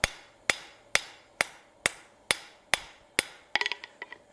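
A hand hammer forges a steel fishtail on an anvil: eight evenly spaced, ringing blows about half a second apart, then a quick flurry of lighter, faster taps at the end, close and clear with no talk.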